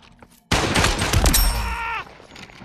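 Loud burst of gunfire in the VR shooter Population: One, a dense volley of rapid shots lasting about a second and a half, then a ringing tail that fades out.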